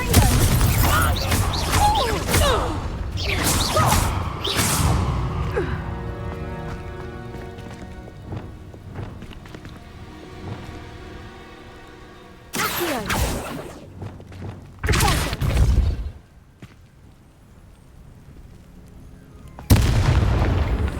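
Confringo fire spells blast in the Hogwarts Legacy video game: a few loud, broad bursts with sharp onsets, some spaced several seconds apart, with music and game sounds around them.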